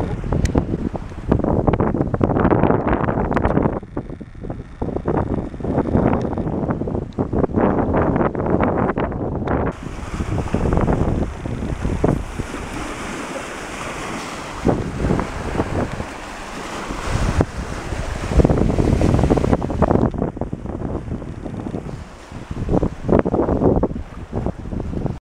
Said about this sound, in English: Out on that boat in this choppy water.